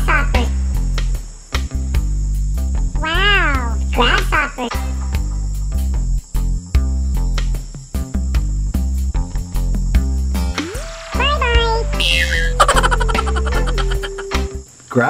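A green grasshopper bug toy gives off a loud, continuous electronic chirping buzz, with sweeping whistle-like tones rising and falling over a pulsing low beat, close and steady throughout.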